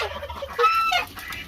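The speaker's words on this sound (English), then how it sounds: "All the chickens are still out too." Chickens clucking close by outdoors near a backyard pond and bird feeder, a short burst of several rising clucks and squawks, with no talk over them.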